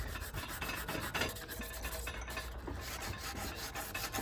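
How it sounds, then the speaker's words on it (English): Abrasive grit rubs back and forth across a car body panel on a Hellcat widebody build, a faint, steady raspy scraping that repeats in short strokes with no voices. "you can kind of hit it again and again with your grit until that part gets smooth"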